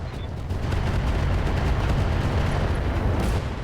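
Mech weapons firing in the video game RogueTech, a dense continuous barrage of booming, rumbling blasts that holds steady and loud for several seconds.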